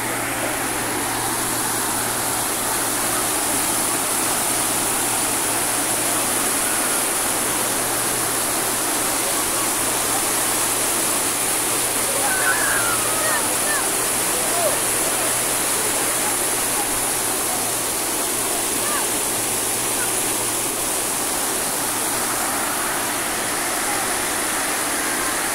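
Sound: waterfall cascade

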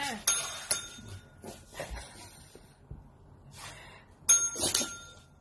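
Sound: bell being rung by a dog

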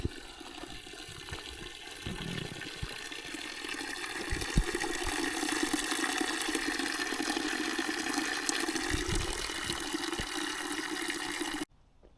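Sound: forest spring water flowing

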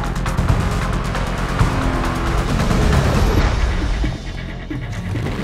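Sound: car engine in the video game Need For Speed Most Wanted

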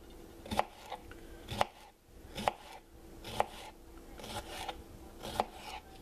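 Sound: knife slicing cucumbers for pickles

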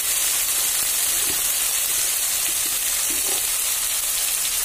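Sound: spice paste sizzling while frying in oil

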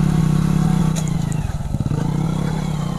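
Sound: motorcycle being ridden in two gears

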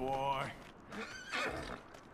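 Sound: horse neighing in the video game Red Dead Redemption 2

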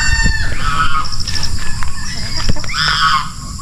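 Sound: chickens and rooster crowing on backyard farm

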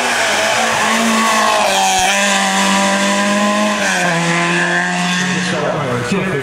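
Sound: historic V6 race car launching at Turckheim hill climb

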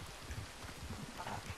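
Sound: rain in the video game Red Dead Online

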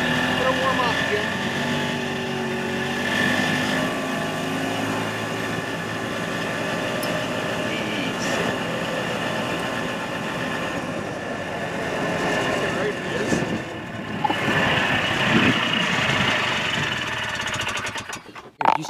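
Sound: Yamaha G1 Enticer 250 golf cart engine warming up, idling

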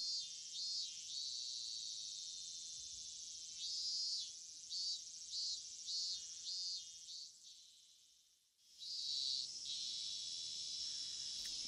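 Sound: cicadas chirping in the video game Higurashi

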